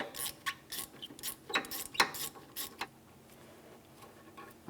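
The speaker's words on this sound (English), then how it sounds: "Use a 10mm to loosen this clamp." A 10mm wrench works a hose clamp on the power steering return line of a 2003-2007 Honda Accord, giving a run of close, uneven metallic clicks and ratcheting creaks that fade after a few seconds into quiet.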